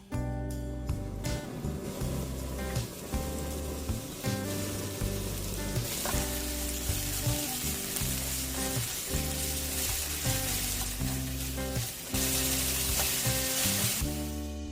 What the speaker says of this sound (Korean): 준비한 팬에 참기름과 식용유를 두르고 약불에 다진 마늘, 대파, 생강을 볶아주세요.